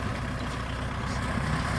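Farm tractor engine rumbling steadily at close range while cassava roots are loaded onto a truck, a continuous low heavy drone with no breaks.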